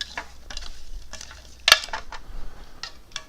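Chicken wings tossed with salt, crushed red pepper and lemon pepper seasoning in a bowl, giving a run of scraping, clattering mixing sounds with one sharp knock partway through, close and alone.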